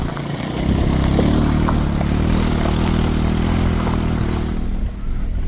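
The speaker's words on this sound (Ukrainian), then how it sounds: "От вам і тест на тягу грузового повноприводного квадроцикла Башан 300 і на що він здатний." A Bashan 300 4x4 cargo ATV engine labours under load while towing a Jeep Cherokee on a rough gravel road rutted by tractors, giving a loud, steady, close drone that holds for several seconds with no talking.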